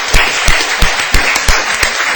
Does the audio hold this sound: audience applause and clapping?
yes